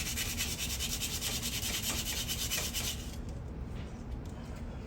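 Sandpaper rubbing back and forth on a broken garage door being rebuilt, a loud rhythmic rasping for about three seconds that then drops to a quieter scraping.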